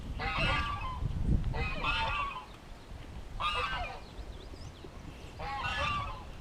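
Geese honk in four loud bursts of calls spread across the clip, over a low rumbling wind background, in a permaculture garden on Bonaire.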